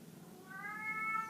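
A house cat gives a single drawn-out meow, rising and holding briefly, fairly close and clear against a quiet room, with no speech.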